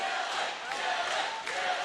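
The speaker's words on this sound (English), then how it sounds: "And the crowd going wild for Dylan Coffin." Crowd cheering and roaring at a high school varsity wrestling senior night match between Oak Ridge and Folsom, a steady, dense wash of voices filling the gym throughout with slight swells.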